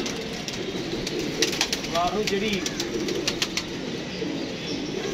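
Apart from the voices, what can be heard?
pigeons cooing and flapping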